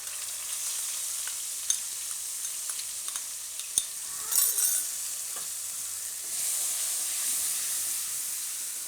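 Garlicky red chilli paste is stirred in hot oil for a Gujarati kadhi tempering, giving a steady close sizzle and hiss with brief spoon scrapes and taps, the frying swelling louder near the end.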